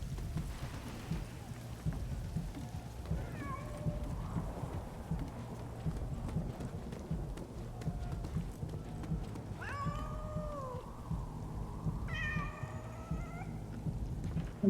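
A pet cat meows several times, rising and falling cries near the end, over a steady low rumble of rain and game sound in a room.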